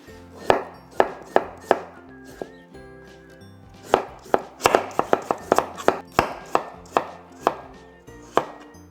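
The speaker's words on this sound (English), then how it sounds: "I'm gonna start slicing with potatoes." Raw potatoes sliced with a knife on a cutting board for Korean stir-fried potatoes, heard as a loud, close series of sharp chops, steady at first and then quicker and denser, with no talk.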